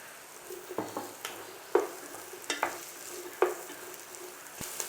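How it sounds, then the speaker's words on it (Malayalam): Sliced onion and lengthwise-cut carrot stir-fried in a pan for restaurant-style chicken noodles, with a steady sizzle broken by several sharp clanks and scrapes of the spatula at irregular intervals, close and alone without talk. "സവാള ഒന്ന് നമുക്ക് നല്ലോണം വഴറ്റിയെടുക്കാം."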